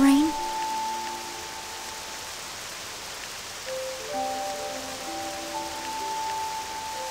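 Continuous rain falls in Octopath Traveler II, a dense, even patter-hiss lasting the whole stretch with gentle held music tones layered over it.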